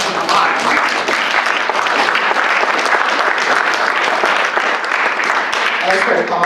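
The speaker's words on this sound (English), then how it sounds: "we should all just give each other a round of applause for talking about lives." Sustained audience applause, a dense, loud patter of many hands clapping steadily throughout, with a voice speaking over it.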